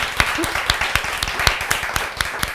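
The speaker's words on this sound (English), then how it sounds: "A round of applause for Jennifer here." A live audience claps through a round of applause, with a steady run of sharp, close-set hand claps that keeps an even level from start to finish.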